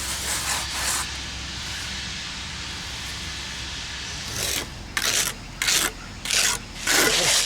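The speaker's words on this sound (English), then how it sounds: "So we got to use the sponge. See? Kind of blend it all in there." A sponge rubbing over a fresh concrete patch on a porch stoop: a steady rasping scrub for several seconds, then a series of short, separate rubbing strokes at close range.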